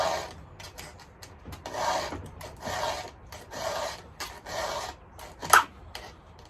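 A hand file rasps in steady back-and-forth strokes, sharpening the chain of a Stihl MS310 chainsaw held in a vice, with about six close, even passes and one sharper metallic scrape near the end.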